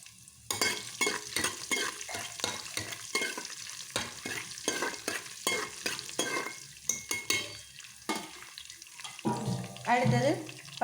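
Black pepper, cumin and ginger frying in hot oil for ven pongal, with a soft sizzle under repeated scraping strokes of a stirring spoon against the pan, close and rhythmic.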